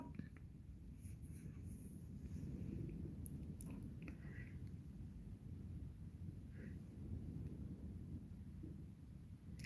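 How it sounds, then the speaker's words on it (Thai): Strong wind blows outdoors in a scenic natural setting, a steady low rumbling buffet across the microphone that is continuous and fairly faint, with no voices. "ลมแรง ลมแรงเลยจ้า"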